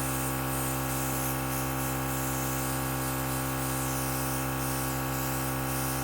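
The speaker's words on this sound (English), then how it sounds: "I'm gonna spray my tissue, and I'm gonna spray my eyelid and a little bit above." A Temptu 2.0 compressor airbrush hisses in a continuous, even spray of makeup onto the eyelid, with a steady mechanical hum underneath; no talking.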